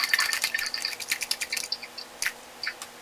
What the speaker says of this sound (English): I'm switching my brush in the water.